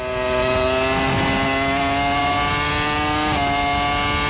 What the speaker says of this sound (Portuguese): Acelerando no carro da RBR.